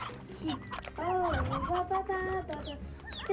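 A chicken clucks and squawks in the Slime Rancher video game, several close, rapid, pitch-bending calls over soft game music, with people talking at the same time.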